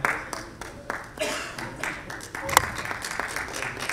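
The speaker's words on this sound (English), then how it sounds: "Big round of applause, please." Audience applause at an awards ceremony for the India Sustainability Awards at an ESG summit, a scattered, moderately quiet patter of clapping with a few sharper individual claps, mixed with faint voices in the hall.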